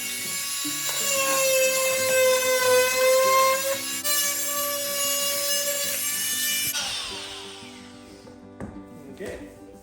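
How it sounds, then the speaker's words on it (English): A loud, whining power tool cuts luxury vinyl plank flooring steadily for about seven seconds with a high harmonic drone, then stops, leaving faint clatter and handling noise. "I'm just going to use a power tool to save myself some trouble"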